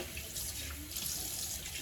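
Tap water runs into a sink during face washing, a soft, steady splashing stream with small gurgles, quiet and close with no talking.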